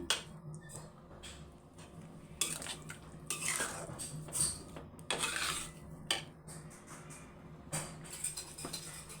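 Carrot halwa is stirred in a pan over low heat: soft, uneven scrapes and clinks of a metal spoon against the pan come in short bursts, close by and fairly quiet, with no sizzle beneath.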